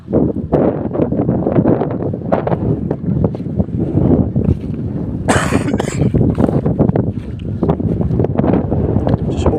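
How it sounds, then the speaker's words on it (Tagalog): Strong northeast monsoon amihan wind buffets the microphone beside shallow, clear water on a fishing outing, a loud continuous rough rumble with gusty bursts and a brief bright hiss midway. "Sobrang lakas ng hangin na galing ng amihan"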